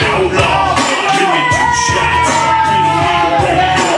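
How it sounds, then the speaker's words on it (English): A wrestling crowd at a CWA show cheers loudly for a wrestler's entrance, with sustained yells and whoops layered over ringing music, dense and close throughout. "Got a pretty good cheer from the crowd, though. Nice and loud."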